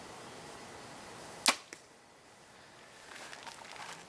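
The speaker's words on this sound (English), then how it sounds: "Just wing a couple through there for you real fast" A single arrow leaves a Strother SX Rush bow with a sharp, loud release snap, a quick thud following, then faint rustling; shot outdoors up close with no talk.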